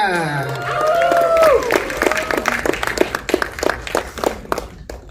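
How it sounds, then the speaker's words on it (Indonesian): Applause and light cheering at a film press conference as cast members are welcomed, rising under a voice and then thinning into distinct, scattered claps near the end. "Tepuk tangan untuk Rahel Amanda"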